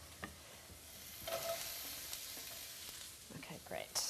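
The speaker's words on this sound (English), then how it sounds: "Now we're gonna add our onions to the pan." Onions sizzle and fry in oil in a pan, a soft, steady crackle with scattered pops and stirring scrapes throughout, fairly quiet and heard alone.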